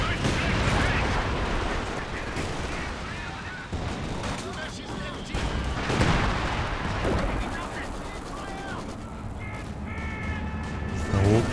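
Katyusha rocket artillery fire in the strategy game Company of Heroes 2, a dense, loud barrage of launches and explosions with repeated booming bursts, while a commentator talks throughout.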